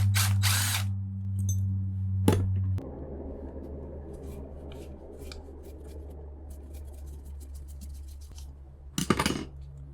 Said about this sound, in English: I've got a screw here to remove.